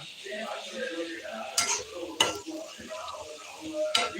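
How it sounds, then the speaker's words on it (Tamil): Steady frying sizzle and crackle from a pan of hot boiling oil, with a few sharp metallic clinks of a utensil against the pan. "நல்லா கொதிக்குதா"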